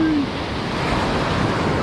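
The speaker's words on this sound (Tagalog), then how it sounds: "Alas yung alon, no?" Strong sea waves break at the edge of a reef during a fishing outing, a loud, continuous wash of surf with wind rushing across the microphone throughout.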